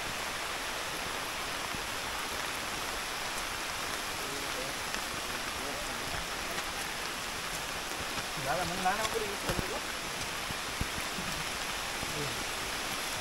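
Steady rain falls during a monsoon trek on muddy hill trails around Saputara, a dense, even hiss throughout with a brief faint voice-like murmur near the end.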